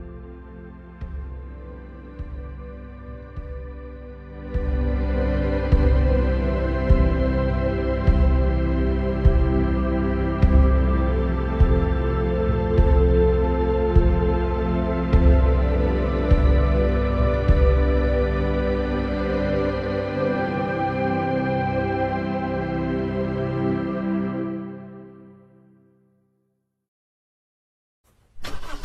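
A car engine rumbles steadily at close range, its low drone kicking in after a few seconds and running evenly before cutting off near the end.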